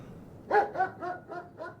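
A dog barks five times in quick succession at a guarded building's gate, sharp, fairly loud yaps evenly spaced over a couple of seconds against a quiet background.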